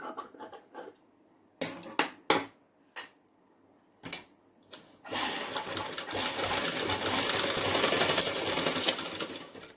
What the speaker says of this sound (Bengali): হাফ ইঞ্চি বরাবরই সেলাই করে নিলাম।